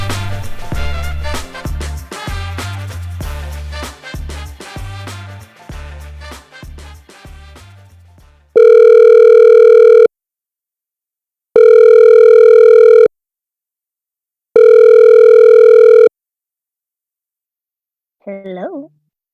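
A phone call is placed: a run of rapid dialing tones is followed by three long, loud, evenly spaced ringback tones separated by silence, then a brief burst of sound as the line connects.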